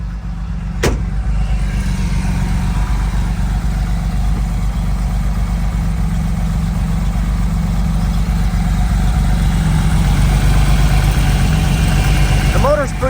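A 1975 Porsche 911 coupe with a fairly stock engine, still fitted with its old smog pump, idles in a steady, even low drone that runs close and continuous while someone talks over it.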